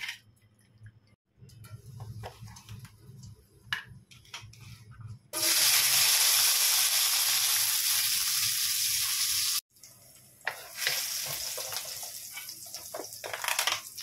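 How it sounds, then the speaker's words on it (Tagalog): Garlic and ginger sauté in a hot pan, starting with scattered crackles and stirring, then breaking into a loud, steady sizzle that cuts off briefly and resumes strongly. No one speaks. "Igisa ko muna siya para mas mabango, mas masarap."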